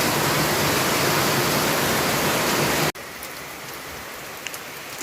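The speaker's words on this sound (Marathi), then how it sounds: "हा पाऊस असा आज दिवसभरात चालूच आहे" Heavy rain falls steadily and loudly, a dense close hiss that cuts off abruptly near three seconds, leaving a faint quieter background.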